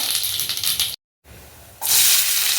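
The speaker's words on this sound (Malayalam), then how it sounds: "കടുകൊന്ന് പൊട്ടി വരട്ടെ." Mustard seeds splutter in hot oil in a kadai, a crackling hiss that cuts out briefly, then returns as a louder, brighter sizzle.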